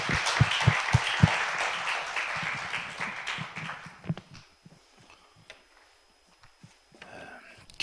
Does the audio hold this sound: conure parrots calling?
no